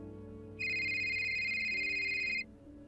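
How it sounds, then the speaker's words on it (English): A telephone rings with a steady electronic tone that starts abruptly and lasts about two seconds, loud and close over a quiet low background hum. "my phone began ringing, making me jump slightly"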